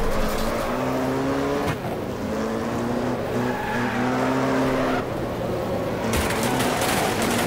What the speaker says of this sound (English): Oh, we rammed the wall again.